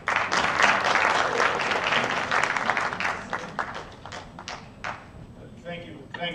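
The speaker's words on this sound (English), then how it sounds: "another round of applause" Audience applause at an annual academic conference after a speaker's talk, a full crowd clapping that gradually thins into scattered individual claps, with a voice speaking near the end.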